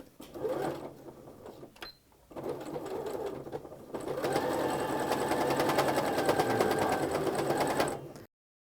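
A sewing machine stitches around a fabric placemat in two bursts, a shorter run, a brief pause, then a longer, steady high-speed whirring clatter that stops abruptly.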